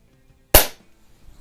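A Snowpeak SP500 .177 break barrel spring air rifle fires a single shot: one sharp, loud crack close by with a short decaying tail, in an otherwise quiet setting.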